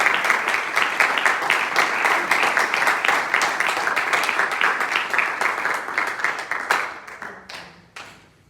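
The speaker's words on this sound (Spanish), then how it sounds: "¿Alguien le puede dar palmas de gozo al Señor?" Church members clap their hands in joyful praise, a crowd's applause with a loose rhythmic pulse that holds steady, then thins out into a few scattered final claps before fading.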